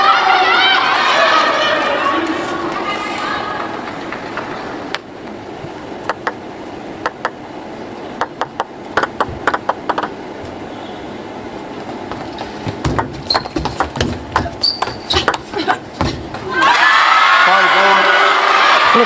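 A crowd roars and cheers at a WTT Finals table tennis match in Doha, loud at the start and end with broad chatter, while sharp, rapid ball ticks of a rally run through the quieter middle.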